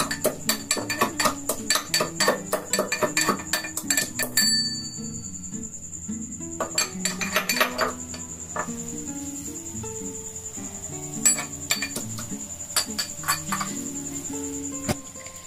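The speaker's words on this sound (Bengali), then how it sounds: "লবঙ্গ, এলাচ, দারচিনি, এগুলো সমস্ত কিছু আমি থেতো করে নেব" Cloves, cardamom and cinnamon being crushed by hand, heard as a rapid series of sharp clinking knocks in bursts, with pauses and a lingering metallic ring between strokes.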